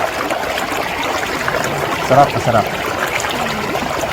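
A river current runs strong after rain beside a campsite, a steady close rushing and trickling wash that fills the whole clip, with brief faint speech over it.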